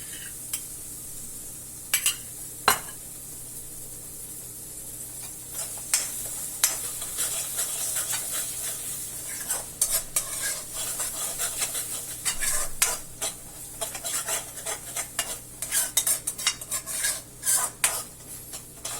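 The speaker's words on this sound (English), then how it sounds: "now I am adding 3 to 4 tablespoons of yogurt or curd in the gravy." Spoon stirring yogurt into a sizzling paneer butter masala gravy in a pan, with scraping, clinks against metal and a soft frying hiss throughout, growing busier toward the end.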